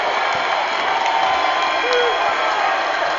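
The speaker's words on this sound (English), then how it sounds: "pumping up the crowd" Basketball arena crowd at an NCAA men's March Madness tournament game, cheering and roaring steadily throughout as a dense, continuous wash of voices with a brief whistle-like tone partway through.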